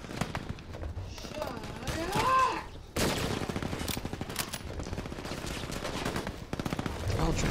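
Gunfire in the first-person shooter Brink: rapid bursts of automatic weapon fire crackle throughout, fairly close and dense, broken at one point by a warbling in-game tone, with game voices mixed in.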